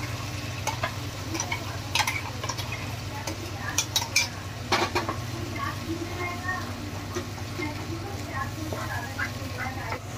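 Paste of tomato, green chilli, ginger and garlic being stirred and fried in a pan, with a low steady sizzle and repeated scraping clicks of a spoon against the metal, quiet and close.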